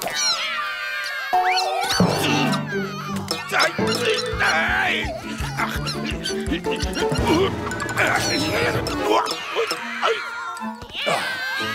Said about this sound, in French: Qu'est-ce que c'est que ce concert de miaulement?